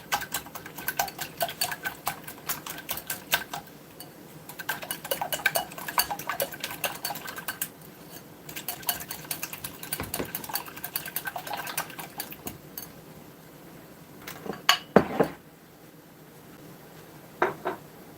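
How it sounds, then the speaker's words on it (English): Country sausage browns in a pan with onions and green peppers, heard as a soft continuous sizzle under frequent utensil scrapes and clinks against the pan. A few louder knocks near the end. "I'm browning my sausage, and it has onions and green peppers in the sausage."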